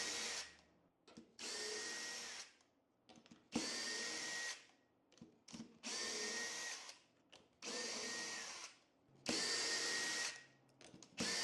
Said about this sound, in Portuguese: Precisa da parafusadeira para a gente soltar os parafusos.